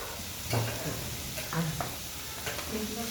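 Ground spices and onion splutter in hot oil for veg biryani, a steady crackling sizzle with occasional stirring scrapes, while someone talks quietly over the pan in a cloud kitchen.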